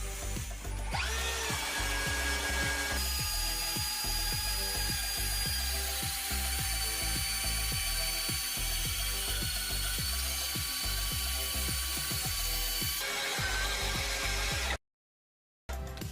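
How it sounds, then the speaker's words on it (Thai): An Osuka cordless drill on speed setting one bores a 16 mm wood bit nine inches deep into wood, a loud, continuous whining grind with rapid ratcheting chatter that runs for over ten seconds before cutting off abruptly. "ต่อไปใช้ดอกเจาะไม้ขนาด 16 มิล เจาะไม้ลึก 9 นิ้ว ใช้หมดเจาะความเร็วรอบเบอร์หนึ่งเหมือนเดิม"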